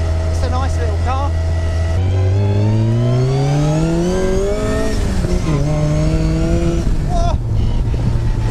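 A Raw Striker 240S supercharged sports car accelerates hard, its engine note climbing steadily through the rev range with a gear change partway through, then rising again. It is loud and close, with excited voices exclaiming over the roar.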